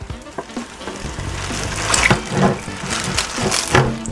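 Juices from a rested smoked turkey breast trickle and splash as they are poured off, a close, uneven liquid gurgle with a few soft clinks and no talking.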